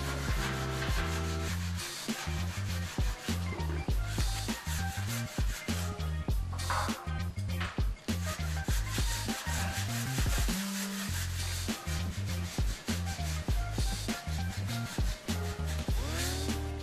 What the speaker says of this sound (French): Pour les bordures, on les ponce manuellement à l'aide d'un tampon à poncer le plâtre.